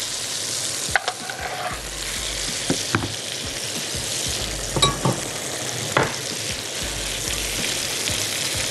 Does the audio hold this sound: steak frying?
yes